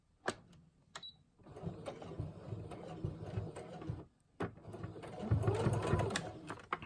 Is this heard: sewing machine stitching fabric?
yes